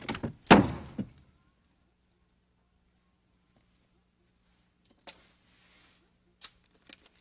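A heavy solid mahogany door slams shut with a loud, close thud, followed by quiet and a few faint knocks or rattles.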